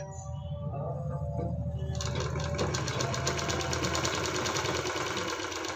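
A sewing machine joins fabric with a half-inch seam, starting with a low mechanical hum and then running fast with a dense, steady rhythmic rattle close by, without speech.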